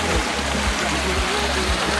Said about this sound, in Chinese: 有瀑布啊。